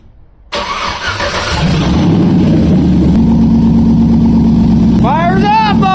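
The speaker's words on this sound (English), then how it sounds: "You want to hear this thing start?" An LS V8 engine swapped into a Chevrolet Colorado truck fires up for the first time: a short starter crank, then a loud, steady, rumbling idle right up close, with a voice shouting near the end.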